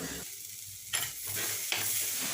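Peeled boiled eggs fry in oil in a pan, with a steady close sizzle and bursts of stirring and scraping as they are turned, and no talking.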